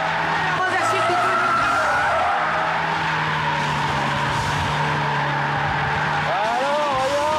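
A car accelerating hard with skidding, smoking tires, loud sustained engine roar with rising squeals near the end, close, with voices talking over it.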